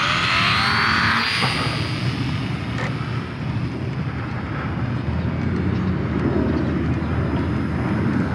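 A micro RC Corsair model plane flying outdoors, a thin steady motor drone running continuously under rushing wind noise on the microphone.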